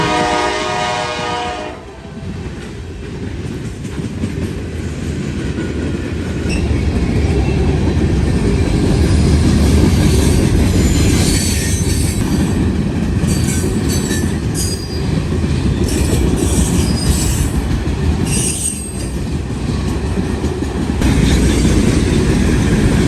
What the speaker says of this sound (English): .170 heads eastbound at 162 in London with a rare Dash 9 trio